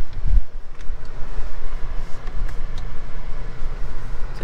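A 2023 Chevrolet Colorado Trail Boss pickup pulling away, a loud, steady low rumble of engine and road noise mixed with wind buffeting throughout.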